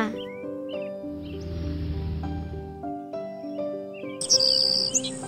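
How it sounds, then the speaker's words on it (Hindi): A sparrow chirps in short, bright bursts at the start and near the end, over steady background music. "मैं हूँ आपकी हमेशा दिखने वाली चिड़िया।"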